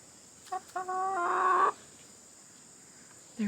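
A free-ranging backyard hen clucks nearby in a short series of calls rising into a drawn-out, strained cackle, then falls quiet before another cluck begins at the end.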